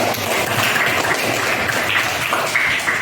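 A class of school students claps together in a sustained, even round of applause that runs loud and unbroken throughout.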